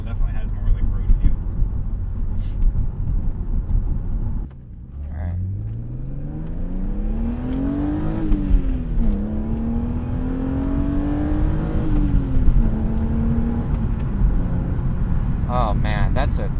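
A stock 1998 Dakar yellow BMW E36 M3 engine revs while driving, its tone rising steadily through the gears with a brief dip at a shift before climbing again, loud and close over road noise.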